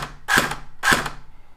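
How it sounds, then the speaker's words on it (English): A Cyma CM.032A SOCOM 16 airsoft replica, empty and without a magazine, is dry fired twice: two sharp, close mechanical clacks about half a second apart, each with a brief ringing tail. "and we'll dry fire."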